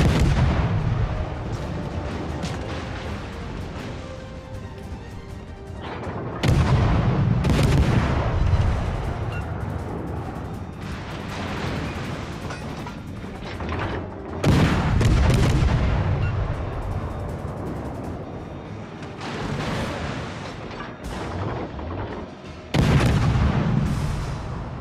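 Naval artillery in World of Warships: Legends fires in heavy, booming salvos that recur several times, loud and close, each leaving a rumbling decay under continuous battle ambience.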